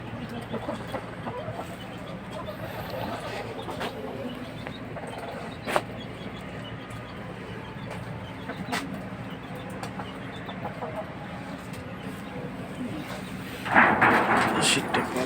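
Farm chickens clucking as they come down to feed on a cold, foggy winter morning, soft and scattered over steady background noise, with a louder burst of clucking near the end.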